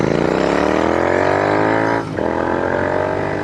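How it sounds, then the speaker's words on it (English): A Royal Enfield Continental GT 650 twin with S&S exhaust pipes pulls hard as it rides, its rising engine note steady and loud. A brief dip comes as it shifts gears, then the engine note climbs again. "I love those pipes. S&S just does so well on this motor."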